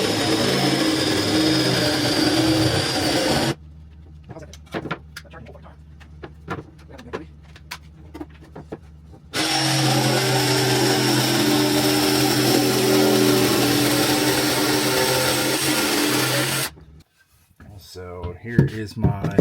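A power tool trims a traced wooden board during a Chevy Express van build, with two long loud cutting bursts separated by quieter clicks and handling noises, then brief clatter at the end.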